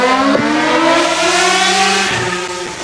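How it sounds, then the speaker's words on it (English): Motorcycle speeding through a small residential street in a 25-mile-an-hour zone, a loud high revving engine whine that holds and shifts pitch, close by and alone with no talk. "Kid on a motorcycle here back in a 25-mile-an-hour zone, small street, and he's flying through here like a bat out of hell."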